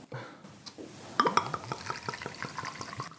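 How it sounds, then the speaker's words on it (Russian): A 40% alcohol liquid poured into a plastic cup, a gurgling trickle that starts after a brief pause and runs on with small splashes and drips, close and fairly quiet. "Теперь в этот стаканчик мы наливаем экспериментальную жидкость со спиртовой долей"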